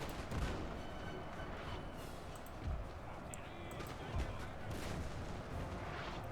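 Gunfire and artillery in a World War II strategy game set in Italy, with a dense, steady rumble of distant shots and booms and occasional louder cracks throughout.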